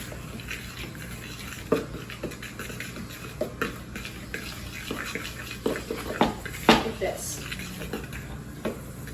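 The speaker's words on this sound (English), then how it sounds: "mix it all together using a fork" A fork stirs oatmeal cookie ingredients in a bowl, giving soft irregular scraping and clinking taps at close range under a steady background hiss.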